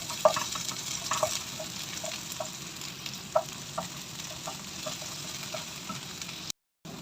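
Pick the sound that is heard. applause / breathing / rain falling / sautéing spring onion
sautéing spring onion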